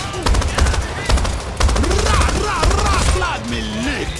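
Rapid bursts of video game gunfire, machine-gun style volleys with single shots, loud and close, with players talking excitedly over the shooting.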